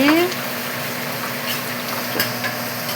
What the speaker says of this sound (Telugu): చిక్కుడుకాయ ఫ్రై చేస్తున్నాను ఫ్రెండ్స్